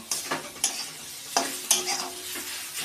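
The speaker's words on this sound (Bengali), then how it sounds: "ভাজা মশলাটার সাথে এটা একটু আরও একটু কষিয়ে নেব" A roasted spice mix is stir-fried in a pan for vegetable chop filling. Several sharp scrapes of the spatula land against a soft sizzle, irregular and close, with no voices.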